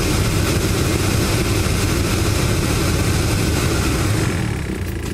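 A Mercedes SLK200 car engine running steadily after the ignition is switched on, a loud continuous low rumbling drone close by that eases slightly at the very end, with no talking.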